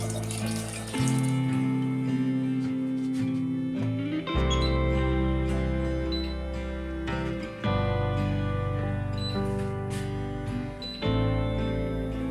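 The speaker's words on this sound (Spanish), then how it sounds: "Agrega agua a la base de la vaporera y llévala a ebullición lenta." Water pours steadily from a tap into the metal base of a steamer for cooking, a close splashing stream that stops and restarts, with tonal ringing in the background.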